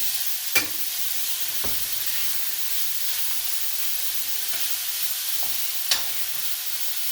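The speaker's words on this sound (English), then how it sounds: "we're going to need to stir this so it doesn't start sticking too bad" Cheesesteak meat sizzles steadily in a hot pan under a constant frying hiss, with a few sharp scraping knocks of a utensil stirring it, two louder clacks standing out near the start and end.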